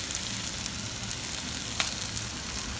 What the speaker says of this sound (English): Masala is getting fried.